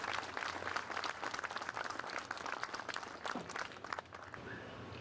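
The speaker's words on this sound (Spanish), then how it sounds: "a quien nos recibimos también con un fuerte aplauso" An audience claps steadily in applause, a dense patter of many hands at moderate distance that tapers off toward the end.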